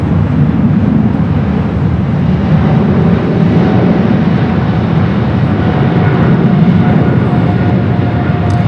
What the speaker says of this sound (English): Back-to-back A380 arrivals here on the north side.